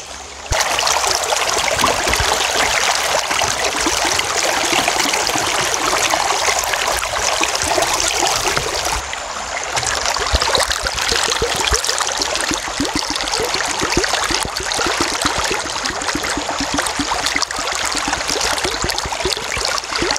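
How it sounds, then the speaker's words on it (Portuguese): Water pours steadily into bottles being filled, a loud continuous close-up rush and gurgle with a brief dip in flow partway through, and no voices. "Eu tô enchendo as garrafas d'água aqui, ajudando a mãe a terminar de encher as garrafas que tá faltando."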